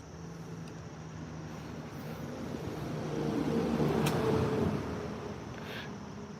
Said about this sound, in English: That's the problem with fishing on the bridge. You're gonna hear all the cars.